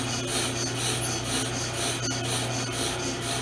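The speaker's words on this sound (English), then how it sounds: "you hear metal scraping" A brake lathe cutter scraping a metal brake rotor, a steady close grinding rasp that pulses evenly with the rotor's rotation over a low constant machine hum.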